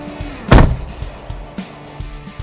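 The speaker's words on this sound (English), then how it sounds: "it's a really big door and has a lot of heft to it, which you will see in the way it shuts with this thud" A large, heavy door on an MG Comet car shuts with one loud, solid thud, followed by a few faint knocks in a quiet setting.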